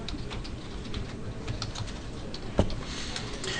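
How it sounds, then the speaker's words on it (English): Typing on a computer keyboard in a text editor, a steady run of close, light key taps with one louder keystroke near the end, no voices. "I can just type stuff in there. I'm going to type in zippyd."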